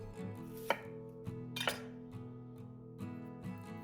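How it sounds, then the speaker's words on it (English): A knife slicing a red onion on a cutting board, producing a few crisp, separate cuts with brief clinks, set against a steady musical background. "We can do this by laying the onion down and slicing at a diagonal."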